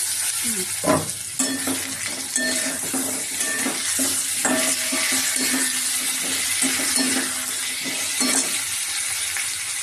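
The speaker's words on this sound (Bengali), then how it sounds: "আমি এখানটায় এবার আলুগুলো দিয়ে দিচ্ছি কষিয়ে নেব আলু হ্যাঁ, আর এখানে টমেটো দিয়ে দিচ্ছি" Potatoes and tomatoes fry in a pan with a steady, close sizzle, broken by stirring scrapes and a few clinks of utensil against cookware; no one speaks.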